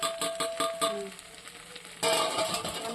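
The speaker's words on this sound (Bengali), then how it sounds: "এই লঙ্কা গুঁড়ো, হলুদ গুঁড়ো এইসব আর একসাথে দিয়ে দে, দিয়ে ভালো করে নাড়াচাড়া কর" Ginger, garlic, chili powder and turmeric powder sizzle in hot oil while being stirred, the frying crackle steady with scraping stirs near the start and a louder burst of sizzling toward the end; no talking.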